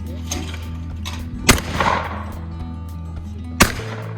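Shotgun fire at clay targets on a ranch, two loud, sharp blasts a couple of seconds apart over a steady outdoor background hum.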